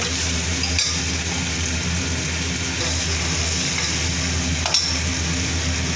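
Masala cooking in oil in a pan, giving a steady, fairly loud sizzle and frying hiss throughout, with a couple of faint utensil clinks and no speech.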